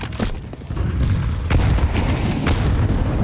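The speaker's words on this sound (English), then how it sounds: "Oh, big nade." A grenade detonates in Counter-Strike during an IEM Cologne 2025 quarterfinal between MOUZ and FURIA: a loud, booming blast with a deep sustained rumble, followed by a second thump, filling the whole moment.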